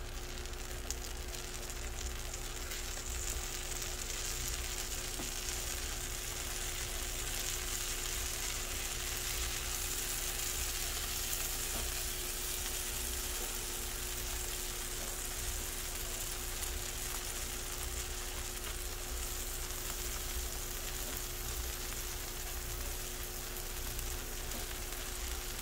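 Minced garlic sizzles steadily in a hot pan, a dense even crackle that stays loud and unbroken throughout with no talk over it.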